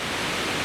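A small waterfall rushes in a steady, dense hiss of falling water, close and continuous with no voices.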